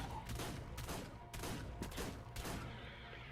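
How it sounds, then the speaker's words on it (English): Gunfire from the back of a mount in the game Ark, rapid repeated shots in a steady rhythm, fairly faint and continuous through the moment. "you can shoot off the back of this thing"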